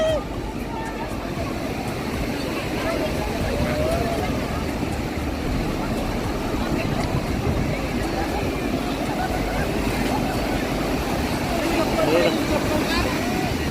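Sea waves surge and wash onto Calangute beach in Goa, a steady broadband roar of surf filling the whole stretch, with people talking and laughing close by over it.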